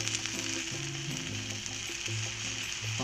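Soy sauce sizzles and fries in a hot pan with anchovies, a steady close crackling hiss with faint stirring and no talking.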